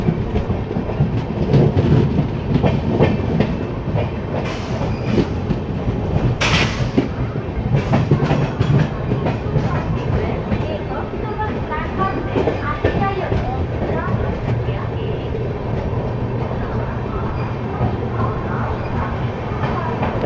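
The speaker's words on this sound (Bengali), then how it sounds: "ট্রেনটি নির্দিষ্ট টাইমেই কটক স্টেশনে ঢুকলো।" The Puri–Howrah Shatabdi Express rolls into Cuttack station, a steady close rumble with clattering wheels and a few sharp squeals or clanks from the rails, heard throughout from on board.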